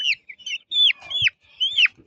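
A sick chicken in rain clucks repeatedly at close range, short rising and falling calls in an uneven rhythm with brief pauses between them.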